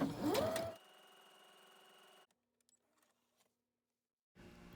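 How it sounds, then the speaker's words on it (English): A sewing machine runs a straight stitch along a ribbon edge in dark thread: a steady, close mechanical whir for about a second and a half after a brief louder noise, then near silence, then the motor hum resumes. "So I'm just gonna straight stitch that whole edge on this side and then on the other piece of ribbon."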